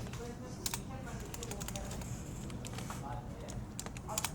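Rapid typing on a computer keyboard while coding, a quick run of soft, irregular key clicks close by, steady throughout with a quiet background.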